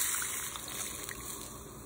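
Water, about two and a half cups, pours into a pot holding half of a stir-fried broccoli mixture for millet bean soup, a steady close splashing gush that stays even for the whole short stretch.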